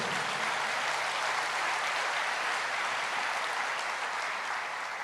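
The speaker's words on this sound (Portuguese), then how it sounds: "Pode aplaudir o Senhor" Sustained applause from a church congregation during a sermon, a dense, even wash of clapping that runs unbroken from start to finish without any talking.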